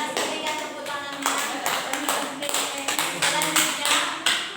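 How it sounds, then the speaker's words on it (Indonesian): Applause from a classroom audience of students, a group of hands clapping in uneven, overlapping bursts at moderate volume, with some voices murmuring underneath. "terima kasih berikan tepuk tangannya"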